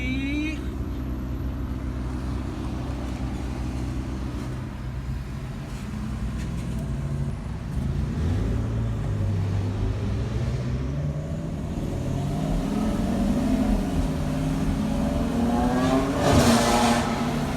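A Mercedes-AMG GT drives past on a Beverly Hills street, its engine rising in pitch as it revs and passes close by over busy traffic noise, with brief talking.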